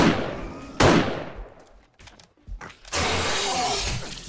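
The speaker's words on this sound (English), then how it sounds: "I better use the sniper rifle for faster kills" A sniper rifle fires in 7 Days to Die Alpha 16.3: one loud, sharp shot rings out and decays, followed by quick mechanical clicks and a burst of loud, noisy game sound.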